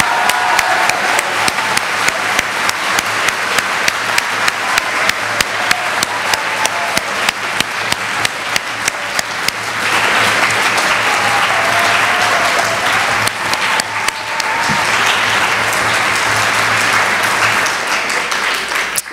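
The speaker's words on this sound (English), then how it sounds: "Let's have a round of applause." At a high school spring instrumental concert, the audience claps in rhythmic unison for departing student performers, steady beats that later dissolve into a thick, continuous round of applause, loud and close throughout.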